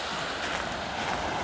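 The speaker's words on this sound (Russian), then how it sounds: "Очень мощные волны." Powerful post-storm waves wash onto an Azov Sea beach, a continuous broad roar of surf mixed with wind buffeting the microphone, with no voices.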